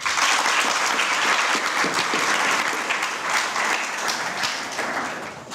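Audience at a moot court competition gives full, sustained applause, dense and even throughout, tapering slightly toward the end.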